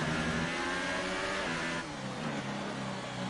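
A Formula 1 car engine revs in the racing game F1 2018, a dense high-pitched whine holding steady then dropping in pitch as the car shifts, loud and continuous with no talk.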